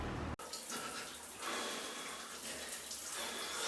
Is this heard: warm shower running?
yes